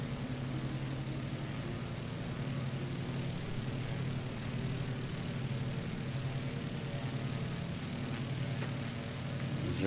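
A small general-aviation propeller plane's engine in Microsoft Flight Simulator drones steadily and evenly throughout, a loud continuous hum with no breaks while flying along the Mexican coastline.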